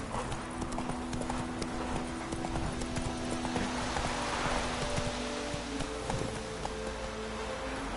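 A horse gallops in The Witcher 3, with a steady rhythmic clip-clop of hooves over soft ambient rustling, moderately close and continuous throughout.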